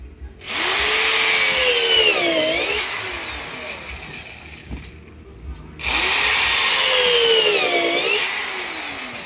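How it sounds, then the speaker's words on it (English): Two loud bursts of a power drill with an upholstery hole cutter boring through material, each whining with shifting pitch for several seconds, separated by a brief pause. "Hold on to the drill."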